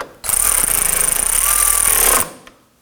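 A power tool removes a bolt from the front inner fender liner of a 2018-2024 Toyota Camry. One close, loud, steady whirring burst lasts about two seconds, then stops.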